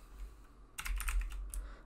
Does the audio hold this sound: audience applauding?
no